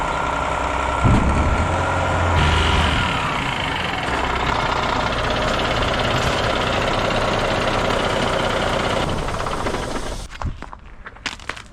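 Volvo FH truck engine running steadily as it loads onto a trailer, a loud, close, continuous rumbling drone that cuts off abruptly near the end, leaving faint clatter.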